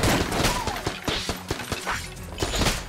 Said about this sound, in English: Ah, shotgun full of hate.